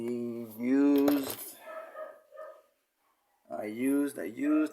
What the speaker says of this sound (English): Let me pause for a second because the dog is going crazy